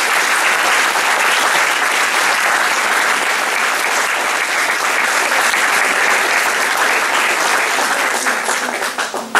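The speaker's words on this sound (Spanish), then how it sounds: "les pido un fuerte aplauso para todos ustedes" A large audience at a children's volleyball festival gives a strong, sustained round of applause for the volleyball subcommittee, loud and even throughout before tapering at the very end.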